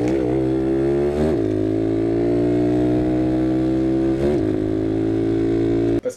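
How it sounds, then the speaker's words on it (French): A small motorcycle's engine drones steadily while the rider shifts gears, with two clear dips and re-rises in pitch as gears change, loud and close; no talk. "n'hésitez pas à me dire si c'est normal que ma moto fasse ça au niveau des rapports de vitesse"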